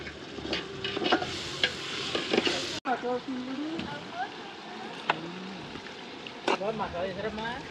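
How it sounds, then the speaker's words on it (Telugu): Onions cook in a large pot for chicken curry, with scraping stirs and sizzling clatter throughout and voices talking in the background. "ఉల్లిపాయలు బాయిల్ చేస్తాం చికెన్ కర్రీకి"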